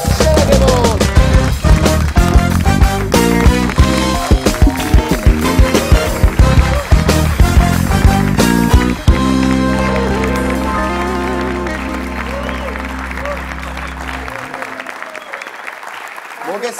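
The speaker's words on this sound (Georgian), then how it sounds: "აპლოდისმენტები!" Studio audience clapping to welcome a singer and a quartet onto a television show, loud sharp claps for about nine seconds, then a lingering musical chord that fades out.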